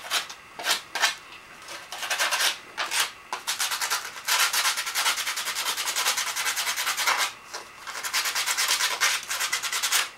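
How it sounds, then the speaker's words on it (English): Repeated rough sanding strokes rasp back and forth over turkey wingbone edges for a turkey call, in a steady rhythm, close up, with brief pauses between passes and no talking. "We just want to sand the edges, pretty much the bones too."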